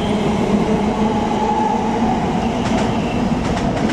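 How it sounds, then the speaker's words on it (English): A London Overground train pulling out of Barking station, a steady loud rumble of wheels and motors with faint rhythmic clicks of the rails, continuous and close, with no speech. "a London Overground service to Gospel Oak is departing."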